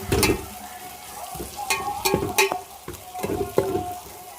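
A spoon stirs chili powder into a tomato curry base in a pan for mutton curry, with soft scrapes and clinks over a low sizzle, close by and without speech.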